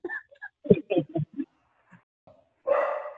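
Two dogs in a house bark in a short series of sharp, close yaps and woofs, with a louder, longer bark at the end.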